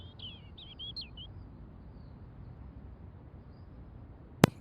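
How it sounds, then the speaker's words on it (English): A bird chirps in the video game Broken Sword: The Smoking Mirror, a short run of bright twittering notes at the start over a low ambient hum, ending with a sharp click. "That's a bird."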